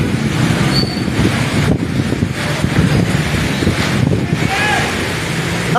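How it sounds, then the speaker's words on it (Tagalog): Strong typhoon wind gusts roar steadily against the microphone during the landfall of Typhoon Enteng, with traffic and tricycles rumbling underneath and voices faintly audible through the noise. "ang lakas ng hangin"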